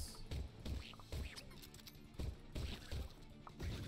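Ducks quacking in the game Ak-Xolotl, repeated short nasal quacks in an uneven rhythm, close and fairly loud amid splashy game noise.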